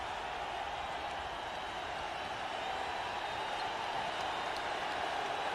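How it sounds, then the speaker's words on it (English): A Boston Garden basketball crowd at a 1995 playoff game between the Magic and Celtics keeps up a steady, distant roar of cheering and applause, fairly faint and unbroken throughout. "Listen to this crowd."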